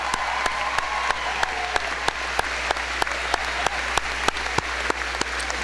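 An audience applauds senior scholars after their speeches at the Goodrich High School 2022 graduation ceremony: steady, moderately loud clapping, with sharp regular clicks over the top.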